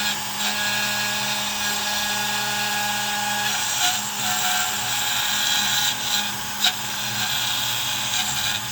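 A Onefinity CNC router carving with a 1/8-inch tapered ball nose bit gives a steady, loud, high spindle whine with grinding cutting noise and a few brief fluctuations.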